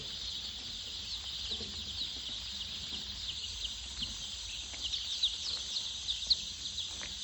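Chicks on a poultry farm feed on pre-starter feed spread over paper, a constant chorus of high peeping cheeps from many birds close by, with soft scratching underneath.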